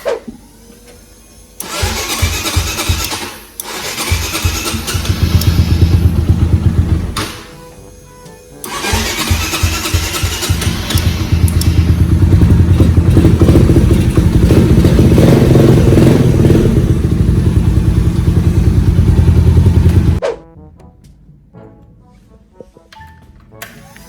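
Honda Sonic motorcycle fitted with an aftermarket camshaft and control box starts after a few cranking bursts, then idles and revs loudly at close range for several seconds before cutting off.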